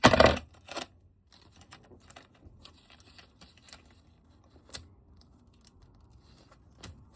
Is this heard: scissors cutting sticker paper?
yes